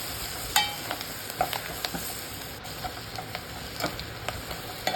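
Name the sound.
chenangi leaves with turmeric frying and stirred in oil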